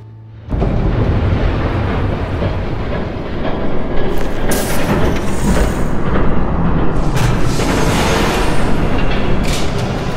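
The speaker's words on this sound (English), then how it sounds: "There's a train coming. Take cover." A train approaching in the Batman Telltale video game, a loud, continuous rumbling roar that swells in after a brief quiet start and holds steady with rattling and crashing surges throughout.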